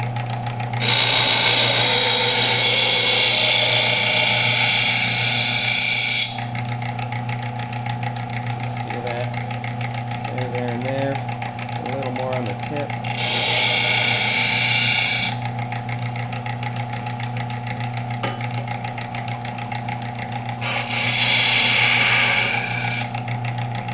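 A sander with heavy grit paper runs with a steady motor hum while sharpening a hunting knife. The blade grinds against it in three loud, harsh bursts of several seconds each.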